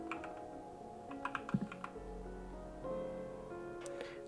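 A handful of quick keystrokes on a computer keyboard, faint and close, followed by a low hum and a last soft click.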